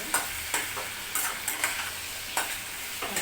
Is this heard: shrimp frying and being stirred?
yes